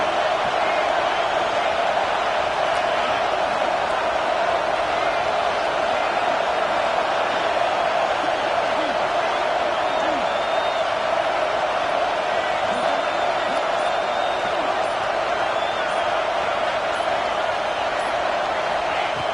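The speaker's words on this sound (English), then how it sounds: "The crowd really making some noise now, trying to help out this defense to get this stop near the goal line." Football stadium crowd roaring near the goal line as the defense tries for a stop, a dense, loud, unbroken wall of crowd noise throughout.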